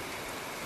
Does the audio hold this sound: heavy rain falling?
yes